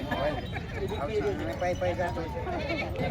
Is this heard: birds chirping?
no